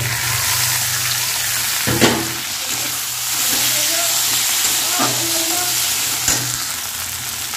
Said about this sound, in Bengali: আমার এখানে হালকা ভাজা হয়ে গেছে পেঁয়াজ, রসুন, আদা। তো এখানে একটু আমি টমেটো রসটা দিয়ে দেব।